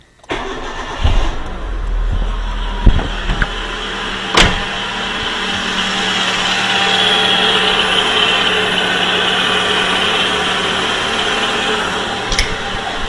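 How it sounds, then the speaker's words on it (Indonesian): A car engine, its radiator being switched from plain water to coolant, starts with a few clunks and a cranking catch, then settles into a steady, even idle up close, with a couple of sharp clicks near the start and end. "Lalu hidupkan mesin kurang lebih 10 menit."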